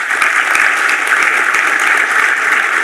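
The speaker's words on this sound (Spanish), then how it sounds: "les pido un aplauso para ellos." Steady, dense applause from an audience at a panel discussion, loud and continuous throughout with no talking.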